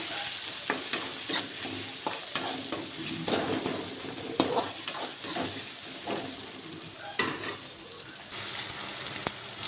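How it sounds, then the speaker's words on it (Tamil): Onions and tomato fry and sizzle in a pan for Kumbakonam kadappa, with a spoon scraping and stirring in a steady, close rhythm throughout and occasional faint splashes of water in the background. "இப்போ பார்த்திங்கன்னா வெங்காயம் நல்லா ஃப்ரை ஆகிடுச்சு. நம்ம இந்த ஸ்டேஜில் தக்காளி ஆட் பண்ணிக்கலாம்."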